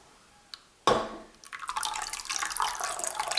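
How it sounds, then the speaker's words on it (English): Lye solution is poured into melted oils for hot process soap, starting with a sharp splash and then a steady close liquid trickle, with no talking. "I'm going to add in my lye now."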